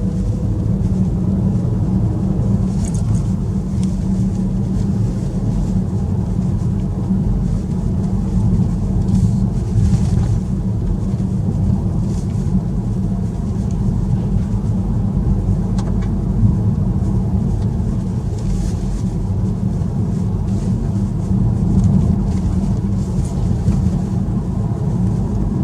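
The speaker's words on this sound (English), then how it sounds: "Following the farmer along now on his quad bike." A farmer's quad bike drives steadily along a country lane, its engine a continuous low rumble that stays fairly loud and even throughout, with no talk over it.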